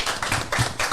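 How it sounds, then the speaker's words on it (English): Real applause from a live audience at a panel event, a burst of clapping and cheering in a small room, dense and steady throughout. "We got sound effect applause, but can we get like a real applause?"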